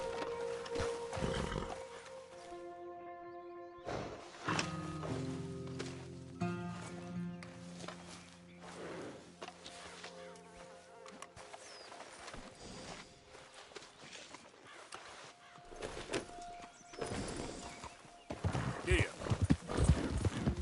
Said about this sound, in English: That looks like a pretty nice horse you got.